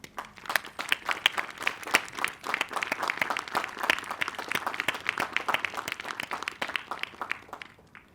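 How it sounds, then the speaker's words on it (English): An audience at a 2021 intercultural graduation ceremony at Moravian College breaks into sustained applause, a dense patter of many hands clapping steadily for several seconds, with no voices standing out. "could we take a minute to actually applaud and to recognize the difficulties you, your classmates, your communities have experienced?"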